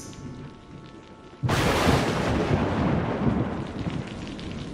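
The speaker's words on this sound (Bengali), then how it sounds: "এমন সময় কাছেই কোথাও আবার ভীষণ শব্দ করে বাজ পড়ল।" A sudden loud thunderclap breaks in after a quiet stretch in an eerie night storm scene, then rolls on as a heavy roar with rain hissing steadily underneath.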